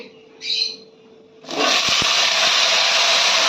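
Pumpkin, eggplant and potato pieces go into hot oil already tempered with dried chillies and bay leaves for a Bengali vegetable dish, setting off a sudden loud, steady sizzle that continues unbroken after a quiet start.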